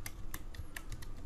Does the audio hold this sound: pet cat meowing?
no